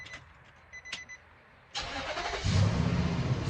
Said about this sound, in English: let's make sure this truck starts again